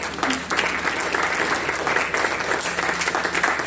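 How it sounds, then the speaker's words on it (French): A church congregation claps continuously, a dense and loud burst of applause from many hands, with a faint voice or two mixed in. "on acclame Dieu pour nos pasteurs."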